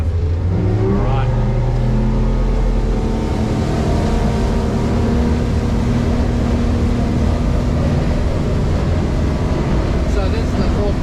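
Yellowfin YF70 extended cabin boat with a 4.2 litre V6 outboard accelerating on the water, a loud, steady, deep engine drone that rises in pitch, with people talking over it.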